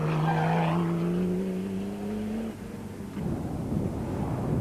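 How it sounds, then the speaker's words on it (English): A Castrol Toyota Hilux races through an off-road event, its engine note sweeping steadily downward as it passes close by, then fading into rougher gravel and wind noise. "Cassie Coetzee and Richard Leake in the Castrol Toyota Hilux looked to be in fine fettle early on in the Caledon"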